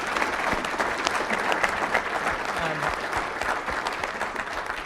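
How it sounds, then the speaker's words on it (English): Sustained applause from an audience at a mental wellness expo, a dense steady wash of clapping filling the room with no break, loud and continuous throughout. "Let's give them one round of applause."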